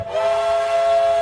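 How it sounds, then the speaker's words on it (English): A steam locomotive whistle gives one sustained, steady blast, loud and clear, with no talk over it. "With a blast of his whistle"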